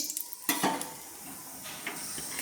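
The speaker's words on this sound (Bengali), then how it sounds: "হলুদ দিয়ে আমি একটু নেড়ে নিচ্ছি" A spoon clatters and scrapes in a kadai as potatoes with turmeric are stirred, a few quick metallic knocks up front, then a faint continuous sizzle with occasional soft scrapes.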